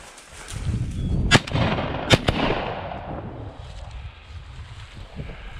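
Shotguns fire while hunting game birds on a game farm: two sharp, loud reports about three-quarters of a second apart, the second with a quick follow-up crack, outdoors over rustling wind and field noise, with no talk.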